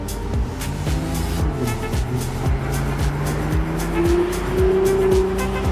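Steady road traffic streaming beneath an elevated O-Train station in Ottawa, a continuous rumble of cars and engines with repeated passing swells and a rising engine tone, fairly loud throughout.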